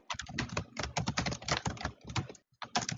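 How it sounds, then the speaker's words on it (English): Rapid, furious typing on a computer keyboard, dense bursts of close key clicks running almost continuously with one brief pause before resuming. "Who is typing so furiously?"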